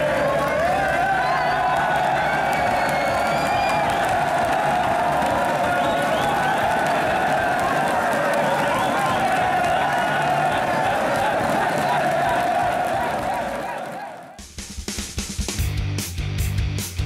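A large arena crowd at the Rainbow Six Pro League finals, an esports event, roars and cheers loudly and without letup for about fourteen seconds before the sound cuts abruptly to a different, choppier crowd noise.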